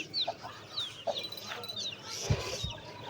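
A hen clucking near her chicks in a farmyard, soft irregular clucks and high peeping chirps at moderate distance, with a couple of low thumps near the end.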